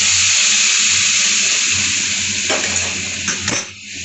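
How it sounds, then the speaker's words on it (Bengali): Hot water pours steadily into a cooking pot for a silver carp fish dish, a continuous hiss and splash that shifts with a few brief clatters near the end, no voices. "গরম জল অ্যাড করে দিচ্ছি"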